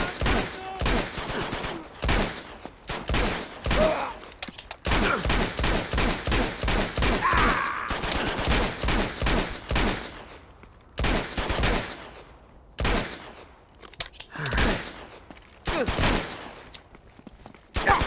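Gunfire in the action video game Uncharted 2: Among Thieves, with rapid, loud bursts of shots in repeated volleys over about eighteen seconds and brief pauses between the salvos.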